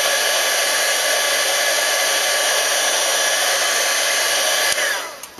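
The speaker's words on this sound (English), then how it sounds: "heat emboss it" A heat embossing tool blows hot air in a loud, steady whooshing hum that holds evenly for about five seconds, then cuts off with a soft click as it winds down.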